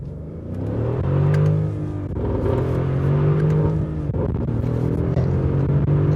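A Mercedes GLE 63 AMG engine pulls hard under acceleration with the gearbox in manual mode, a loud, close, steady roar that rises through the revs, dips briefly at a shift around two seconds in, then climbs again.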